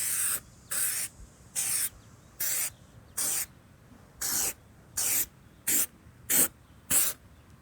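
Spray coat applied to a car headlight during restoration: eleven short, even bursts of aerosol hiss, each under a second, evenly spaced and close, with no voices.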